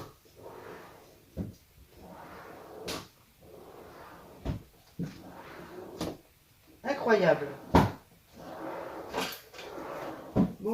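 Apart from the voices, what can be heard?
drawers being opened and closed while searching for tape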